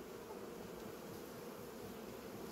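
Honeybees in a weakened colony with fewer bees hum as a steady, faint, continuous drone during a late-season hive transfer.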